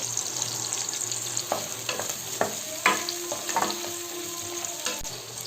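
Eggplant pieces frying in hot oil for a Tamil kathirikai kadalai curry, a steady close sizzle with scattered spoon scrapes and stirring knocks throughout, no talking.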